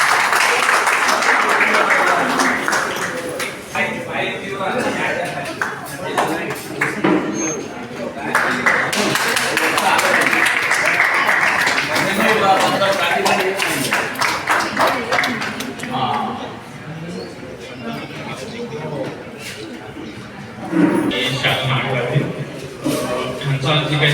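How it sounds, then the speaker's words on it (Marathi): An audience at a retirement farewell ceremony claps in dense, sustained bursts that swell and fade in waves, with a voice speaking over parts of it. "सर्वांनी टाळ्या वाजवायच्या आहेत"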